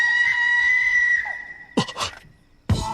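A woman in an anime film lets out a long, high, sustained scream that fades, followed by two short, loud outbursts of sound after a brief gap.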